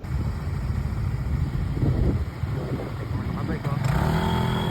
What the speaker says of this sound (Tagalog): Kita mo ko, motor ni Batman